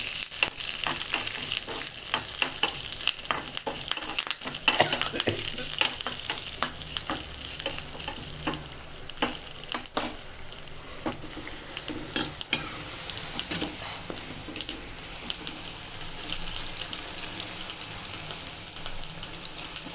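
Tempering spices and seeds frying in oil on a low flame, a constant crackling sizzle with frequent sharp pops and occasional spoon clinks against the pan, no one talking.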